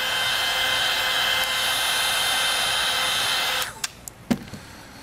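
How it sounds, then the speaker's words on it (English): Heat tool blowing on a label wrapped onto a plastic sprayer bottle, a steady loud airy whir running several seconds before switching off, followed by a few light handling clicks. "I'm gonna heat up the label a little bit."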